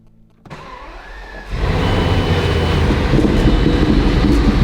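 A Bugatti Veyron starts with a starter whir that swells into a loud, deep, steady engine rumble, close and sustained until the end.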